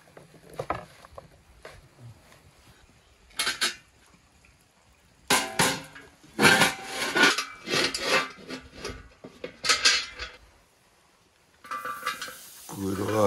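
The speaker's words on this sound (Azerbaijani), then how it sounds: "İndi qarışdırırıq." Beef and potatoes stirred in a pan, with intermittent scraping and rubbing bursts of the utensil against the metal, separated by quiet pauses.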